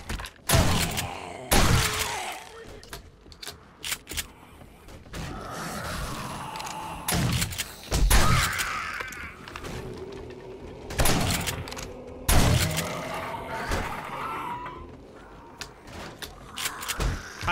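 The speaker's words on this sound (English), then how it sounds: "I'm hearing zombies all around me just breaking stuff." Zombies smashing and breaking things in 7 Days to Die, a series of heavy thuds, cracks and crashes at uneven intervals with some rumble between them, loud and close.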